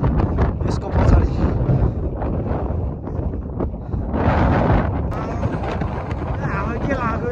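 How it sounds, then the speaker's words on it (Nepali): Strong wind on a mountain trail near a hidden lake and the South Annapurna glacier, buffeting loudly and unevenly in gusts, with a voice murmuring underneath. "हावा के लाग्यो यस्तो"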